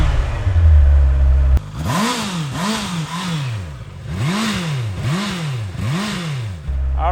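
A 2024 Honda CBR650R sportbike with E-Clutch starts up after a brief low rumble, then its engine revs repeatedly in a steady series of rising and falling blips, loud and close, with no talk.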